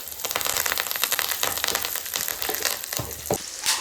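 Garlic cloves, dried red chili and curry leaves fry in sesame oil in a hot pan, giving a loud, dense, continuous sizzle with crackling pops throughout.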